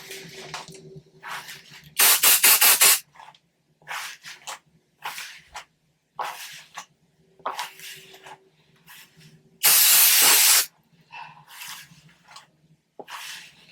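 An aerosol hairspray can sprays onto hair in two loud sustained hissing bursts of about a second each, separated by quieter rustling and handling sounds close to the microphone, with no talking.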